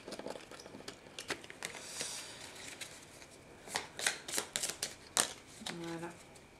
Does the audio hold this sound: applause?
no